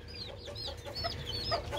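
Chickens and chicks kept together in a single cage, with repeated clucks and high chick peeps overlapping throughout, close and fairly steady, no talking.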